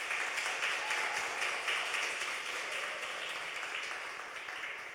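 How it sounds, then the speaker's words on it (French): A youth event audience applauds, producing a faint, continuous wash of many hands clapping in the distance that holds steady and then gently fades toward the end. "Est-ce que nous avons un petit temps pour applaudir"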